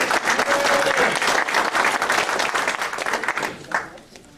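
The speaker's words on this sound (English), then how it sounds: "So a big round of applause for Bob." A round of applause for Bob at an amateur radio club meeting, a small room of people clapping briskly before it thins out and fades after a few seconds.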